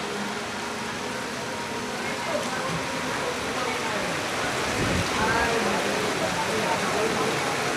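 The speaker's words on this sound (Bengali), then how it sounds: "কাল বৈশাখী ঝড়ের মতো বৃষ্টি আসতেছে।" Heavy rain pours down in a storm like a nor'wester, a dense, steady roar that stays loud throughout and swells slightly toward the end.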